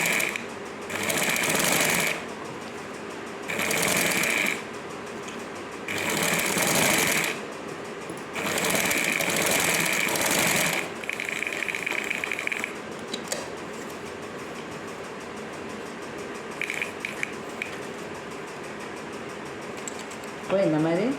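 A sewing machine stitches the back neck of a blouse in four steady bursts separated by short pauses, followed by quieter handling clicks and faint background voice.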